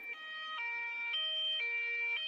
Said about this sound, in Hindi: एम्बुलेंस लाडो को लेकर अस्पताल की तरफ निकल पड़ती है।